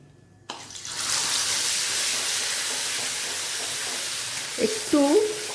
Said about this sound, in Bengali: এর মধ্যে একটু দিচ্ছি কালো জিরে ফোড়ন